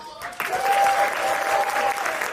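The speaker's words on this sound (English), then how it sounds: "Please clap them as they come to the stage" Audience applause for spoken word poets coming to the stage at a 2020 live poetry event: steady, dense clapping that rises after a brief quieter start and holds loud throughout, with a faint sustained tone underneath.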